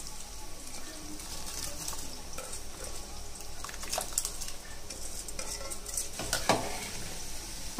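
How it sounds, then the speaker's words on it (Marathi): Washed basmati rice poured into a pot of boiling water with oil and lemon juice: a bubbling, hissing boil with scattered clinks and scrapes of a utensil against the pot, and a couple of sharper splashes. "आता हे धुतलेले तांदूळ टाकायचे"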